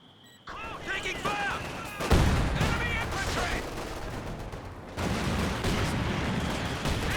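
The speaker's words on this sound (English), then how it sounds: "Didn't dodge the rifle nade" A rifle grenade and gunfire in Company of Heroes 2 battle produce dense, overlapping shots and blasts, loud and continuous, with a heavier burst midway through the chaotic combat noise.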